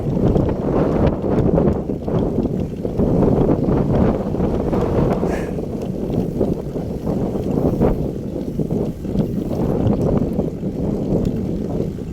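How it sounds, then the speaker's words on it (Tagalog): Strong wind buffets and roars across the microphone in continuous gusts, with water and boat noise mixed in, off Occidental Mindoro. "Lakas ang hangin."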